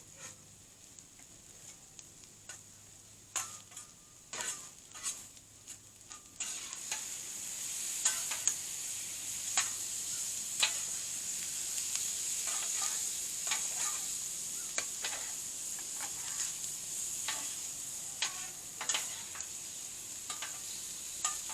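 Vegetables frying and browning in a pan for shrimp fried rice, a steady bright sizzle that rises and stays constant, punctuated by repeated clicks and scrapes of a spatula stirring.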